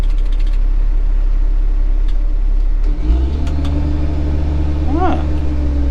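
A farm tractor engine idles with a low, steady drone, then about halfway through the note lifts and strengthens as the engine revs up and holds the higher pitch, with a voice briefly over it.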